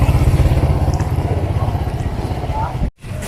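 A motorcycle engine idles close by with a steady, throbbing low putter, loud and rhythmic, briefly cut by a short dropout near the end.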